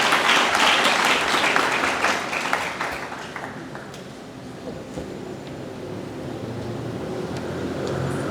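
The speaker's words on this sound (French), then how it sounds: "Sous vos applaudissements, s'il vous plaît." Audience applause at a graduation ceremony, loud dense clapping at the start that fades over a few seconds into room murmur and low background noise.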